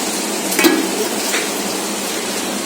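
Potatoes frying in a pan give a soft, continuous sizzle, with a brief metallic clink of utensils near the start.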